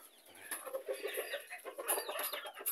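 Miniature roosters and small fowl cluck in a steady run of short, overlapping calls, close by and moderately loud, with scratchy movement in the background.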